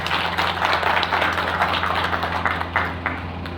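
Steady, dense applause from an audience at a Garhwal Scouts 62nd foundation day gathering of army veterans, loud and continuous for the whole stretch over a low electrical hum.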